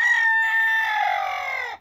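A rooster on a smallholding crows one long, loud, drawn-out call close by, holding steady for nearly two seconds before cutting off.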